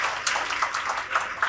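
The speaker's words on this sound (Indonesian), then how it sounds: "Tepuk tangan buat Gen Z yang juga hadir yang luar biasa di sini" At a public talk, the audience applauds the Gen Z university students attending, a brief, fairly distant patter of many hands clapping at a steady level.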